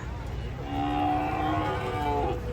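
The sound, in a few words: cow mooing while unloaded from truck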